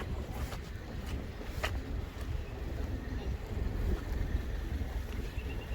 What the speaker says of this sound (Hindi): वेदर आज का बड़ा ही ज़बरदस्त है, ठंडी-ठंडी हवा चल रही है।